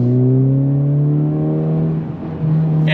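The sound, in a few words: 2023 Honda Civic Type R engine revving to redline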